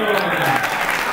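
Audience clapping at a book launch event in a Livraria Cultura bookstore in Fortaleza, a continuous even patter of many hands that fills the space with a light murmur of voices underneath.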